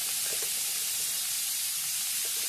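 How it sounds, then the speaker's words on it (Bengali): Boiled bitter gourd frying in a pan over a village cooking fire, giving a steady, fairly faint hiss and sizzle that continues unbroken without pause. "উচ্ছেটা সেদ্ধ করে নিয়েছি, এখন ভাজছি"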